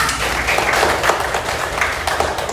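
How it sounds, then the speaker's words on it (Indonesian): Schoolchildren clapping for a classmate in a lesson, a short burst of brisk mixed hand claps from a small group nearby, steady throughout. "Tepuk tangan buat Nata."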